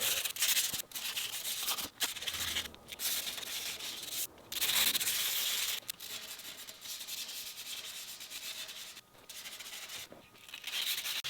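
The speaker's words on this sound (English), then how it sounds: "Just set up to do the hand sanding here." Steady, close scratchy rubbing of hand sanding an axe made from steel toe boots, continuing in long strokes with brief pauses between passes.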